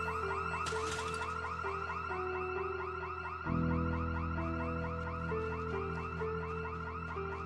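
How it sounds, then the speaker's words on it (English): A house alarm in the Project Zomboid video game, a steady electronic wailing tone with repeating pulses, continuous and clear, with a sharp shift in tone midway and no talk. "Suddenly, a house alarm shattered the silence."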